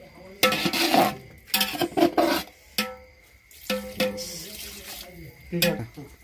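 Water is poured from a large pot onto a lid covering a chicken curry pot cooking on a wood-fired stove. It comes in several separate splashing, trickling bursts with short quiet gaps between them.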